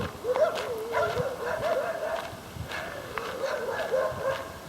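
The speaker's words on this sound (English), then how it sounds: "What kind of dogs are these? That's a funny bark." Dogs barking with a howl-like tone along a bushwalking track on the Central Coast, repeated drawn-out yelps at moderate distance with brief higher yips between.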